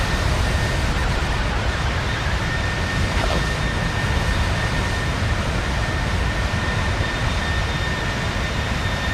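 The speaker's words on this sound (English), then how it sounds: "we'll just turn the airplane down a little bit because it's quite loud" A PMDG 737-800 airliner on a cinematic flyby in the Microsoft Flight Simulator 2024 game, its jet engines a loud, steady broadband roar that holds unbroken for the whole stretch with no voices.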